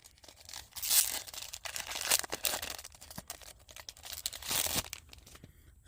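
Foil wrapper of a Gundam Dual Impact trading card pack being torn open and crinkled, a quiet, close series of ripping and crackling bursts over several seconds with no talking.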